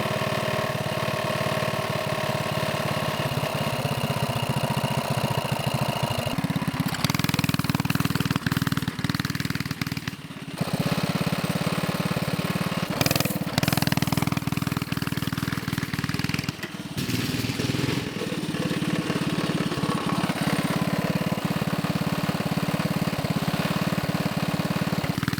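Small mini bike engine running with the choke on, a loud close steady buzzing drone that rises in pitch partway through, dips briefly a few times, and then settles back to a rough, constant idle.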